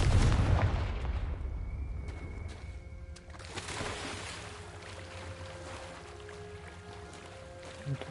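A Confringo spell blast bursts loudly in Hogwarts Legacy, a sharp fiery explosion at the start that rolls off into a long, fading rumble under quieter game ambience.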